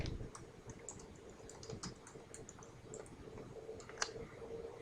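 Quick runs of computer keyboard keystrokes entering a chart axis title in a spreadsheet, irregular clicks close to the microphone over a faint steady hum, with no talking.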